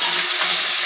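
Chopped tomato drops into hot oil with garlic and asafoetida in a pan, bursting into a loud, close, continuous sizzle that fills the whole short moment without pause.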